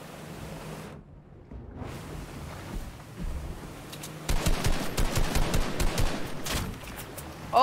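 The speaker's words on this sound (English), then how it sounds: "Oh, that's not me shooting." Fortnite gunfire in a squad match: bursts of rapid shots, some fast and rattling like automatic fire, over a wash of rushing noise, with a brief quiet gap near the start and no talking.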